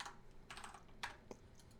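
Typing on a computer keyboard during a Houdini software session, several distinct keystrokes spread across about two seconds, close and fairly quiet, with no voices.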